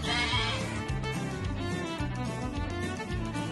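Sheep and goats grazing on a hillside vegetation project near St Helena bleat continuously, their calls layered and repeating at a moderate distance with no talk.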